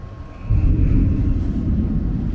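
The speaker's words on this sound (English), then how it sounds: "You guys can hear that thunder rolling." Low, deep thunder rolls steadily from a distance, swelling after a brief quieter start and holding as a continuous rumble, heard from aboard a 53-foot expedition motor sailer.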